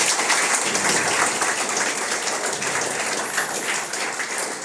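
An audience of hotel school students claps steadily in a storytelling session on branding, a dense, even wash of many hands that holds at the same level for several seconds with no talk over it.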